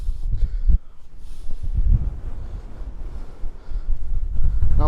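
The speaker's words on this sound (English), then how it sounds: "Nice and breezy." Wind gusts buffet the microphone on the Darwen Hill summit in overcast, breezy weather, with low rumbling bursts that swell and fade irregularly, close and fairly loud.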